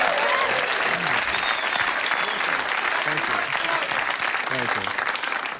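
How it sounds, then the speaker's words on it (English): Comedy club audience on a televised footy show breaks into sustained, loud applause that fills the whole clip, with someone briefly speaking over it. "Not sure why you're applauding"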